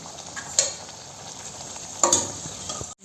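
Garlic mutton curry frying in masala in a pressure cooker: a soft, steady sizzle with two sharp scrape-and-clink stirring strokes of a utensil against the pot, heard faint and close with no talk.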